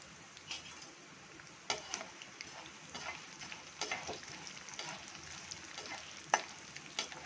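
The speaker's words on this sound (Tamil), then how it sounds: "நம்ம எடுத்து வச்சுருந்த உளுந்து கடலை பருப்பு சீரகம் இதெல்லாம் கொட்டி இதெல்லாம் கொஞ்சம் செவக்க கலரி விடணும்" Urad dal, chana dal and cumin seeds fry in hot oil with a soft, steady sizzle, broken by scattered clicks and scrapes of a spoon stirring the pan, close and quiet.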